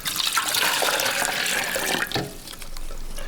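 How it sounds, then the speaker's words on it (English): Water poured out of a jar into a container splashes and gurgles steadily for about two seconds, loud and close, then trails off into a quieter trickle. "Jasmine, dump your jar of water into that, please."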